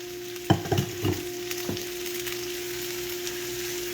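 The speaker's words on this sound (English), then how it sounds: "We're going to kind of stir these around and let them cook down." Food cooking down in a pan sizzles softly and steadily, with a few quick stirring clacks near the start before the hiss settles into a continuous low fry.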